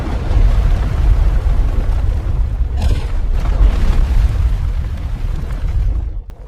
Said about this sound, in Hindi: ज्वालामुखियों के विस्फोट ने आग उगलना शुरू कर दिया